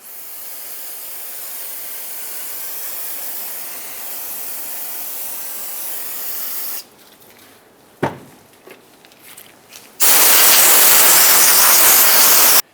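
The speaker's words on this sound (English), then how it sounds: "Rinse it off with brake parts cleaner once you're done." Brake parts cleaner is sprayed onto a front brake hub of a 2011-2018 Ram 2500 truck. A long, loud, close aerosol hiss follows a steady background hiss and a few faint knocks.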